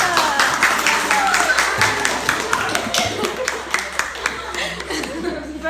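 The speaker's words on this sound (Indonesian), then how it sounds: "terima kasih juga tepuk tangan untuk mereka dulu" An eighth-grade class applauds after a group presentation on persuasive texts, scattered clapping with some chuckles and laughter from the room, fairly close and uneven, thinning out toward the end.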